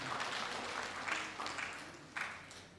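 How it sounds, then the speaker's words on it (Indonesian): A church congregation applauding: steady, moderately faint clapping from many hands heard at a distance, swelling in a few bursts over nearly three seconds. "mari kita beri tepuk tangan kemuliaan bagi kebaikan"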